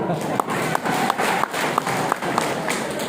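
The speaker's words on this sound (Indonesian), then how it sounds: "tepuk tangan untuk Pak Dewan" Audience at a Maulid Nabi religious gathering in Maros clapping for a council member, steady applause with a few sharper distinct claps standing out, moderately close.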